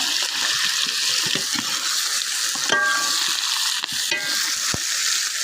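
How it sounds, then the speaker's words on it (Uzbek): Plov ingredients frying and being stirred in a pot, a steady loud sizzle broken by scraping stir strokes and a few clinks, with no voices. "Mana endi aralashtirib olamiz."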